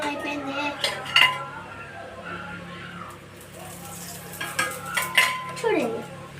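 Dough being stirred in a pot with oil on the stove until it puffs up: irregular scraping and metallic clinks of a utensil against the pot, with some louder knocks in bursts.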